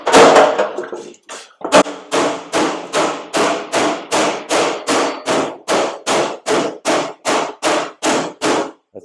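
A steel footstep from a 1956 International cabover pickup truck gets hammered on an anvil: about seventeen loud, ringing metal blows in a steady, even rhythm, close up, with no talking.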